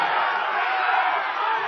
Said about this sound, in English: Crowd appealing to the referee for something